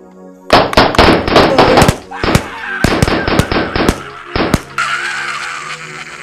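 Rifle volley fired on command in a Ghanaian Twi-language Kumawood movie: a rapid string of loud, close gunshots in bursts, with a brief pause and then more shots, their echoes trailing off afterward.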